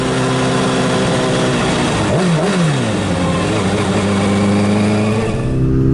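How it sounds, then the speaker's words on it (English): A motorcycle engine with a loud exhaust drones steadily and close, pitch wavering up and down in a quick rev midway before settling back to a constant, sustained roar. "If you got a loud ass exhaust, rev the fuck out of your engine."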